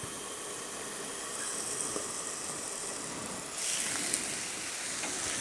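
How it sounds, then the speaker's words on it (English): Broccoli steams in a covered pan after water is added, giving a steady close hiss and gentle sizzle that briefly grows louder partway through, with no talking. "A little bit of liquid, a little bit of water, put a lid on it. And you can steam that up real quick."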